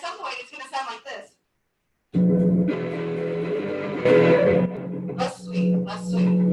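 An electric guitar played through an engaged fuzz pedal produces a thick, distorted, sustained chord that holds steady for several seconds, loud and close, with speech just before it and a voice cutting in near the end.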